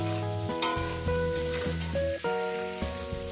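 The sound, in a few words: eggplant frying in a pan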